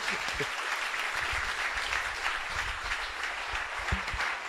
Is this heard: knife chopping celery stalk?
no